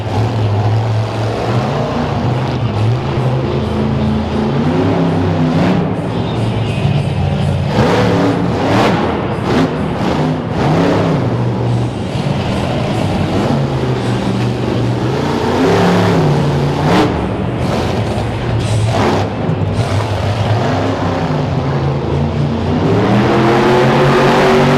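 Monster truck engine at a freestyle event in Kansas City, Missouri, roaring loudly and revving in repeated surges over a long stretch, with crowd and arena noise under it.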